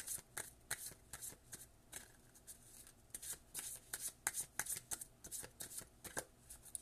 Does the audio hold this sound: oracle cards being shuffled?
yes